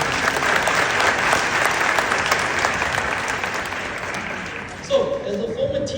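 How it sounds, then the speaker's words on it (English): Audience applause at the launch of a mental health program for teachers in Namibia, dense steady clapping from a hall crowd that thins slightly toward the end before a brief louder burst. "Let's give a round of applause."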